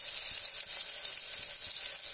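Chopped turnips and spices fry in a pan with a steady, close hiss of sizzling oil that runs on evenly without any talk.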